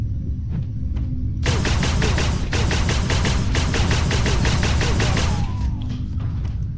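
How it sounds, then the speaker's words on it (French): Rapid bursts of assault rifle fire ring out in the sci-fi MMORPG Otherland, loud and close, in a sustained rattling volley that starts after a quiet lead-in and tapers off near the end. "Hop, on va switcher à l'arme d'assaut"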